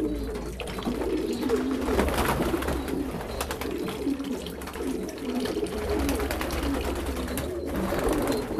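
Pigeons cooing steadily in a loft during hot weather, overlapping soft, low coos that repeat without pause at close range.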